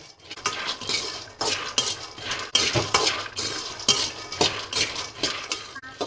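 Peanuts roasting in a heavy-bottomed pan, stirred with a metal spoon in quick repeated scrapes and rattling clinks, an even rhythmic scraping without talk.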